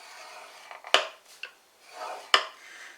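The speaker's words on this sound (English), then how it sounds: "we're going to pop this into our scoreboard at the long side, and we're going to score this at 2 inches, and we're using a small ball" Small ball scoring tool drawn along card stock seated in a scoreboard, giving a few quick, close scraping strokes with sharp rasping peaks and quiet gaps between them.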